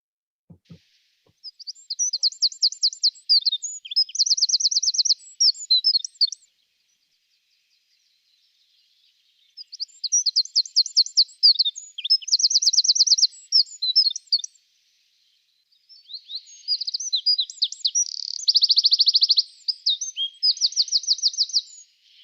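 A wren sings in a woodland dawn chorus, three long, loud, rapid bursts of high trilling song separated by pauses, close and clear against a quiet background.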